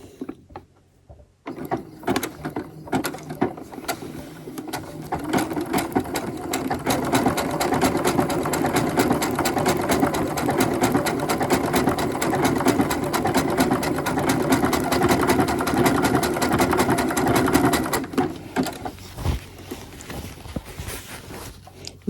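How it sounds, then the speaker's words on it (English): A sewing machine runs steadily, stitching cords onto fabric, with a fast continuous rattle of the needle that starts after a brief pause and stops near the end, close and fairly loud with no talking. "and then we just stitch."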